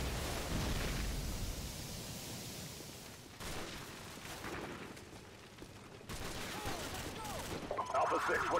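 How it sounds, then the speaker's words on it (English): Sustained gunfire from a Call of Duty Modern Warfare firefight near an overpass with a tank, a dense continuous rattle of shots and blasts across the whole stretch, with a voice shouting over the battle. "We're taking heavy fire on our position north of the overpass!"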